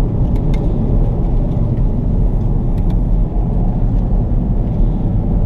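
A 2019 Chevrolet Camaro drives along the Cherohala Skyway mountain road on a dirty, salted surface, with a constant loud low rumble of engine and road noise heard from inside the car.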